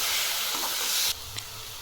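Dill greens with soaked moong dal sizzle in a hot pan, a steady hissing sizzle that drops abruptly quieter partway through, with a faint clink near the end.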